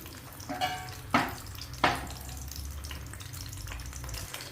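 Boiled chickpeas are tipped into a simmering, spicy eggplant and drumstick gravy, giving two or three soft splashing thuds over a low steady bubbling and faint sizzle.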